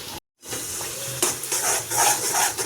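Onions sizzle steadily in hot oil for a palak paneer base, a dense crackling hiss that dips out for a split second near the start, then resumes with faint stirring scrapes, no voices.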